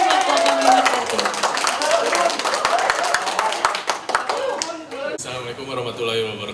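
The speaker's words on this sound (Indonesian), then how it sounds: "Boleh tepuk tangan yang meriah buat Bapak Mewan Kartiwa." Lively clapping from a workshop audience in Bandung honoring Bapak Mewan Kartiwa, mixed with voices and chatter, tapering off toward the end as talking takes over.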